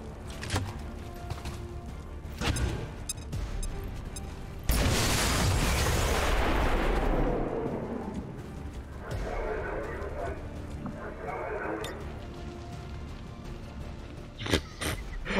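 A loud, deep grenade explosion in XCOM 2: War of the Chosen erupts and rumbles for a couple of seconds amid busy game sounds, followed by scattered clatter and a few sharp hits.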